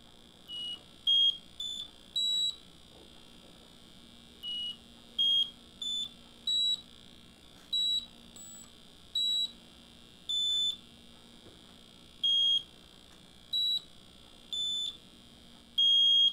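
The restored Bardeen transistor music box plays a series of short, thin electronic beeping tones at shifting pitches, evenly spaced and alone over a faint background hum.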